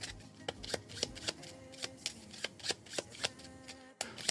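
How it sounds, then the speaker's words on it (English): Playing cards from a solo tabletop campaign are shuffled into the deck by hand, producing a steady run of crisp riffles and snaps about every quarter second, close and fairly quiet. "we'll shuffle that in, lose it in the deck here"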